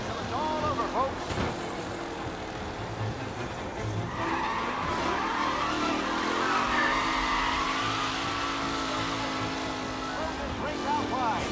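Race cars skidding and squealing tires during the final lap of a race in the video game Mafia, a continuous engine roar with a long tire squeal in the middle, under a player talking.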